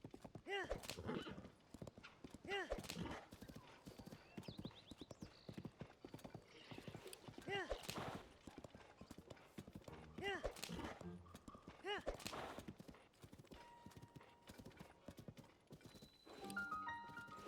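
Horse hooves clip-clop along a road in Zelda: Tears of the Kingdom, with a rhythmic run of close hoof beats, an occasional horse whinny, and a player talking over the riding.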